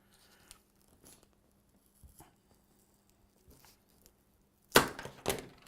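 Kitchen scissors snip through pleated filter media: a few faint, scattered cuts and rustles, then two louder, sharper tearing crunches close by near the end.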